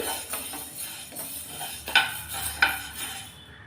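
Green gram dry roasting in a pan, stirred with a metal spoon: rattling scrapes and two sharper clinks against the pan, close and fairly loud over a faint sizzle.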